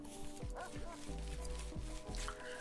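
A dog in the RimWorld video game, with short repeated barks and yips over a tonal in-game music bed, fairly close, while people talk.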